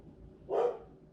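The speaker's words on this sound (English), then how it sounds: "They're barking." A single short dog bark sounds at a moderate distance indoors, brief and fairly faint against a quiet background.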